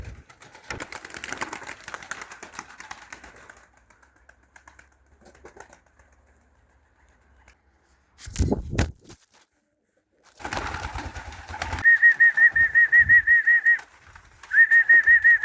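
Pigeons coo softly at an evening feeding and wings flutter in a burst partway through, followed by a steady repeated electronic beeping near the end.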